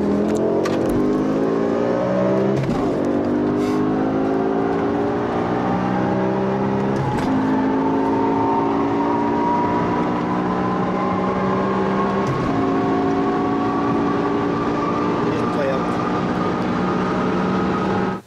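Supercharged 4.4 V8 in a BMW E60 revs repeatedly, loud and close, the pitch sweeping up and settling with a strong whine over the engine roar across several throttle blips.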